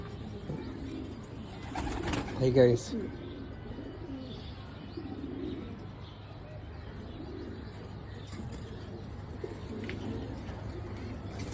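Pigeons, some paired and others bred this year, coo in soft repeated low calls at a gentle rhythm. The calls are fairly faint and distant, with a brief louder flurry of chirps and rustling early on.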